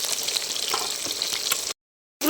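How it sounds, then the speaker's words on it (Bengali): Pieces of rohu fish fry in hot oil in a pan, giving a steady close sizzle and crackle that breaks off abruptly before resuming briefly. "এই পিঠটা খুব ভালো করে ভেজে নিয়েছি"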